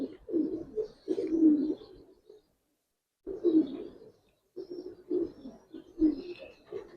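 A pair of young Giribaz silver pigeons coo nearby in soft, throaty bursts, several in a row, then a short silence before the low cooing picks up again.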